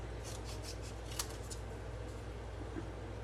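Scissors snip steadily through paper pieces at close range, a light run of soft cuts over a constant low hum.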